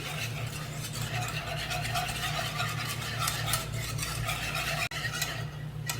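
Glutinous rice flour whisked into cold water in a bowl, a steady busy rapid whisking rasp with faint clinks running almost unbroken, briefly dropping out near the end.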